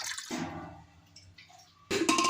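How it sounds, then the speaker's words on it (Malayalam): Water splashes into a cooking pot over split lentils with turmeric and salt, a short watery burst at the start, a quieter stretch with faint drips, then another splashy pour at the end. "പയറുപരിപ്പ് വേവാനുള്ള വെള്ളം ഒഴിച്ചു കൊടുക്കുകയാണ്."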